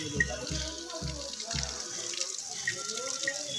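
An elephant draws up and splashes water with its trunk in a few quick gurgling surges, followed by softer trickling and dripping nearby.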